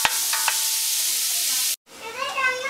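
Thinly sliced onions fry in a pan for cretons, a steady close hiss and sizzle with a few stirring knocks, breaking off for a moment before the crackle resumes.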